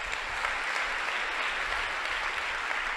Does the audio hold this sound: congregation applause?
yes